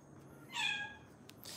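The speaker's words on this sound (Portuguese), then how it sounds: "O gato entrou novamente aqui." A cat meows once indoors, a short, clear, mid-distance cry rising and falling against a quiet room background, with no talking.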